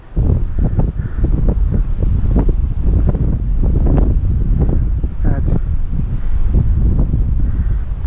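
Strong wind gusts batter the microphone beside a trout fishery lake on a summer day, a loud, continuous roaring buffet with uneven surges throughout.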